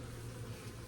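Faint, steady buzzing of honeybees in an indoor hive setting, a low continuous drone with no voices over it.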